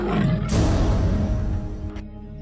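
A white tiger roars in a cartoon set in the Sundarbans jungle: one loud, rough, sustained roar filling most of the moment, then cutting off abruptly.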